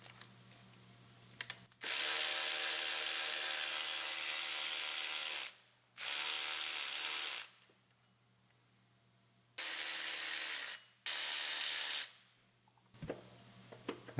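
A ratchet spins bolts off the power steering pump of a Dodge Journey, sounding as four loud, rapid clicking runs of a few seconds each, separated by short pauses.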